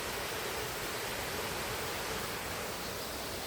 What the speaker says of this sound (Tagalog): Uy, may waterfalls dito.